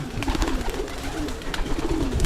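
Pigeons coo steadily in a breeding section, several birds giving overlapping low throaty calls at close range, with a busy background of fluttering and shuffling.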